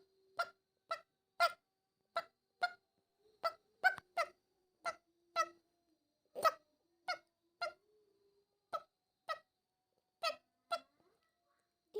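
A duckling crying in a series of sharp, evenly spaced peeps, close and clear, about twenty calls over a quiet background.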